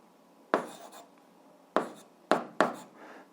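Pen writing out an eighth-grade algebra exercise: four short scratchy bursts of strokes, close and fairly quiet, with pauses between them and no talking.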